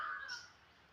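A wild crow gives a single short caw, faint and distant, fading out within a second against quiet background.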